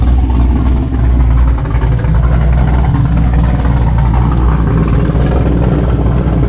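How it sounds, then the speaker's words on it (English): A 1969 Camaro with an LS3 swap, Ford 9-inch rear end and wide 345 tyres rolls out of a garage, its V8 rumbling loud and close in a steady, slightly lumpy idle with no talk. "it's driving under its own power. It just moved out of the garage for the first time since February."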